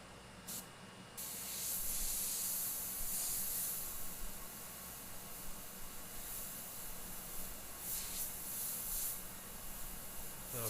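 An airbrush sprays paint onto a hooked tribal skull, a close, steady airy hiss in several long bursts with short pauses between them.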